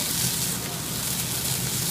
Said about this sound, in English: we're going to flame with brandy